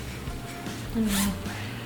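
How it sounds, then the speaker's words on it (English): A metal zipper is handled during sewing work on an exposed-zipper skirt. It gives one brief, quiet rasp near the mic against a low background hum, and no one speaks over it. "I want to do an exposed zipper on this dress"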